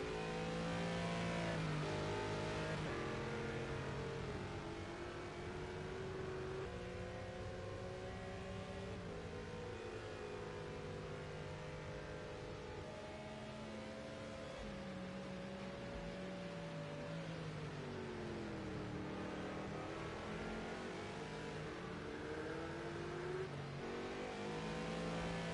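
A race car engine in Project CARS 2 on the Dubai circuit's international layout, revving loudly and steadily throughout a fast lap, with rising and falling pitch sweeping through gear changes and no talk.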